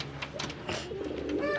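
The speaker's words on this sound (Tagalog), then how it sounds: "Nagpares na silang dalawa mga kalapatids." A pair of pigeons coo softly and closely in a short series of low, throaty calls, with no talking over them.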